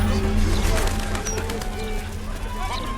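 Pigeons coo softly in Baldur's Gate 3, a few low repeated calls mixed with faint bird chirps under a steady ambient bed while a character speaks over them.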